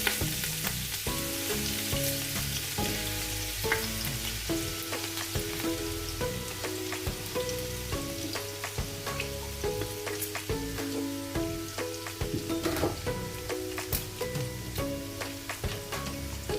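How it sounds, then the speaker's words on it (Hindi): Small onions and cumin fry on a medium flame for kadhi pakora, a steady close sizzle and crackle with occasional stirring clinks throughout. "इसको हमने मीडियम फ्लेम पे इसको हमने फ्राई कर लेना है"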